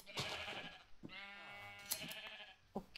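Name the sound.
sheep bleating in Minecraft video game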